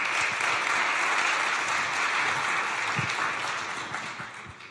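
An audience at a chamber of commerce round table in Troyes applauds a guest being welcomed, a steady bed of clapping that carries on evenly and eases slightly at the end.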